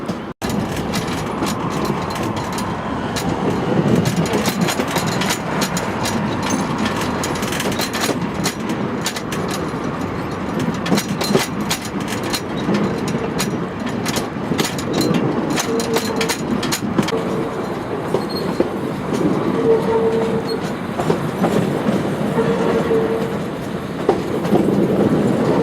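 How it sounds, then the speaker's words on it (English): A heritage train at Waihi runs along its rails with steady clickety-clack of wheels over joints, a continuous rumble heard from on board, and occasional faint wheel squeals and tonal whines throughout. "I've been wanting to go on this train for 2 years."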